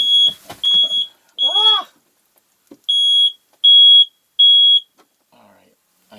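Piercing high electronic beeps from a smoke alarm set off by cooking sound in short bursts, some rapid and some longer, with a brief exclamation and scattered noises between them.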